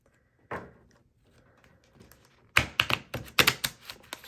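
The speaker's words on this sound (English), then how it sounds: "let me go ahead and shuffle these cards" Tarot cards are riffled in a quick burst of crisp, fluttering snaps after a single soft thump, close and fairly loud.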